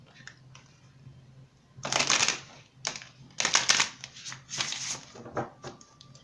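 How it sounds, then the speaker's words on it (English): Bursts of riffling shuffles of a deck of oracle cards, several quick ruffles in a row with pauses between, close and fairly loud. "This deck just does not want to shuffle today."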